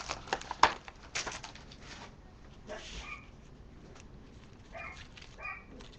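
Dogs indoors let out scattered short barks and yips with soft whimpers between them, fairly faint and somewhat distant, with no talk over them.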